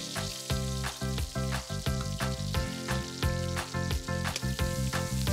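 Onion and garlic sizzle in a pan for a Batangas dish, with a continuous crackle punctuated by regular sharp clicks and scrapes, under a steady bed of tonal music.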